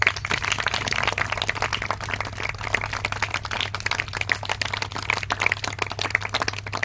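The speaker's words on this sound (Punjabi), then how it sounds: "ਤਾੜੀ ਵਜਾਓਗੇ" Children clap together in a room, a dense continuous patter of many small hands held at fairly even loudness over a steady low hum.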